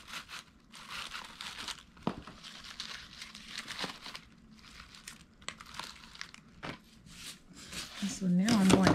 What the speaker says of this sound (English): So I am just adding my shredded paper.